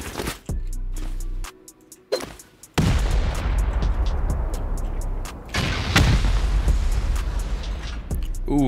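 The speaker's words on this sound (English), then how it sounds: "Let's go ahead and I guess send 16 rockets now that we see this armored hard side wall." Rockets explode against an armored wall of a wooden base in a survival video game. A few heavy booms arrive close together, then a dense barrage of blasts rumbles on loudly through the rest of the clip.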